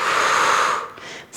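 A strong, breathy exhale during a beginner posture and mobility workout, close and loud for most of a second, then fading into a softer short breath.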